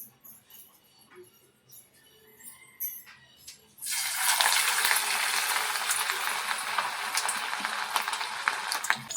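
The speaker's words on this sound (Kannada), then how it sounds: "ಎಣ್ಣೆ ನೀಟಾಗಿ ಕಾದ್ಮೇಲೆ ಒಂದೊಂದಾಗೆ ಬಿಡೋಣ." Chicken potato snacks frying in hot oil, a loud continuous close sizzle and crackle that bursts in suddenly after a few quiet clinks and stirring noises, then holds steady with no talk.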